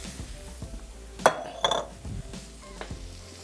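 Spinach being stirred and roasted in a pan on a home stove: scraping and clinking utensil strokes with a faint sizzle, a couple of sharper metallic knocks near the middle, no talk.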